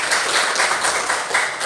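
A classroom of students claps for their classmates during a science lesson, brief, dense and lively applause from a group nearby.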